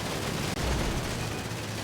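Dense, continuous gunfire rattles through a video game fight event, loud and close, with bursts blurring into one another.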